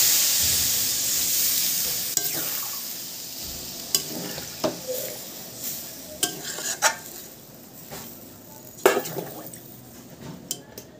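Desi chicken being sautéed in a pan, with a steady background sizzle broken by a series of sharp scraping clinks of a spatula stirring against the metal, close and without talk.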